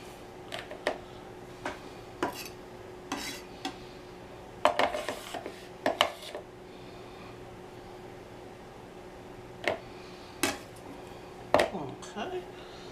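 Knife cutting food outdoors at a cookout, with sharp intermittent taps and clinks as pieces are tossed into a bowl, sparse irregular clatters over a quiet background.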